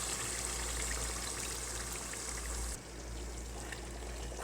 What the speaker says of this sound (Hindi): अब हम इसमें करीम ऐड कर देंगे।